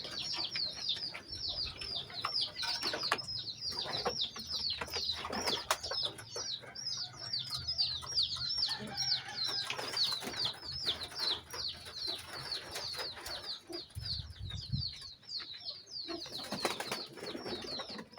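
Racing pigeon in winter training flight, with a dense flock's rapid wing flapping and bird calls continuing loudly and steadily throughout, with soft cooing underneath.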